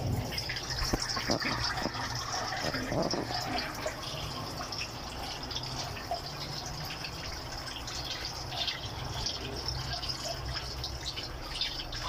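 Hot engine oil draining steadily from the oil filter of a 2022 Hyundai Elantra during an oil change, a continuous pouring, splashing gush into a container, loud and unbroken.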